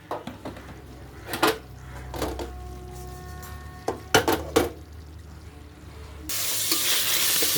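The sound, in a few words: frying beef fat and oil in biryani pot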